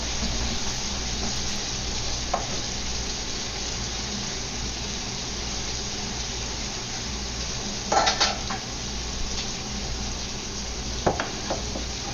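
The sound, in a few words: beef stir-frying in a wok on high heat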